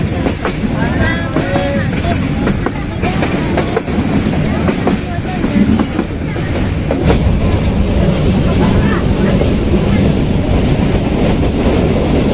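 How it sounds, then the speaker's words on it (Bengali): Loud rumbling train arriving at Dhaka Airport railway station, with clattering and screeching wheels, mixed with heavy wind buffeting the microphone and a busy background. "দুই ঘন্টা লেটে আসলো ঢাকা বিমানবন্দর রেল স্টেশনে এখন উঠবো এই ট্রেনে"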